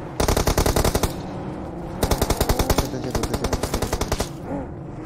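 Rapid automatic gunfire from a battle royale video game, loud and close, in three sustained bursts with brief pauses between them, and no talk over the shooting.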